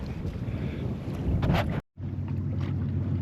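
A sailboat glides at about two knots in light air off Mount Desert Island, Maine, with a steady rush of wind and water around the hull, gusts buffeting the microphone and a brief dropout midway.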